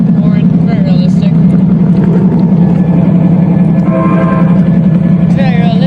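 A model train locomotive at a winter railroad club meet purrs with a steady low engine drone throughout, close and loud, while people talk over it.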